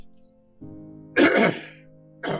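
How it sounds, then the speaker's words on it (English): A man clears his throat while driving with the windows down. One harsh, rasping burst follows a brief hum, with a faint voice before it. "sorry, clear my throat."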